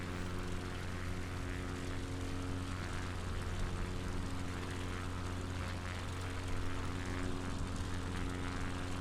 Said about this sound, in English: we are sort of basically going to make a turn pretty much over Weymouth as we begin our landing